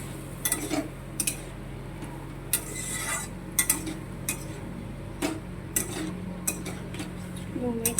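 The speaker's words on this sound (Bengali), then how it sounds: "তো আমি পেঁয়াজ টমেটো ডাঁটাতে দিয়ে দিয়েছি, একটু লেড়ে নেবো" Onion, tomato and drumstick stalks are stirred in a cooking pot with a utensil, making repeated scraping taps and metallic clinks at an uneven rhythm over a steady low background hum. No one speaks.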